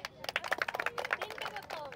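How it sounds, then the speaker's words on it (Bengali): A small audience at a party game claps in a quick, uneven burst of close hand claps, with voices chattering underneath. "একটু সবাই হাততালি"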